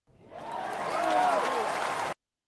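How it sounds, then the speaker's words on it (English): A stock cheering crowd effect swells in over half a second, holds as a dense roar of many voices for about two seconds, then cuts off abruptly into silence. "I'm just gonna search cheer, and these are the different cheers"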